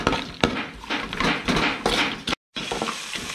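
A spoon scrapes and stirs clam masala with salt in a pot, producing a series of rough scraping strokes with a soft sizzle underneath, close and fairly loud, with a short silent break near the end.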